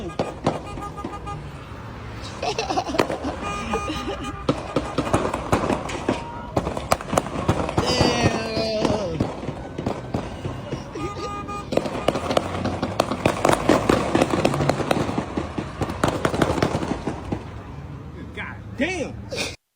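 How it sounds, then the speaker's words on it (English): Gunshots ring out outdoors in a dense, busy scene, sharp cracks scattered over about twenty seconds amid loud commotion, movement and excited voices, with bullets seeming to whip past. "You could hear the bullets ping by a couple times."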